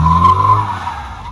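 A Ford Mustang drifting, its tires giving a loud sustained skidding squeal that wavers and slowly fades over a short stretch, with the car's engine underneath.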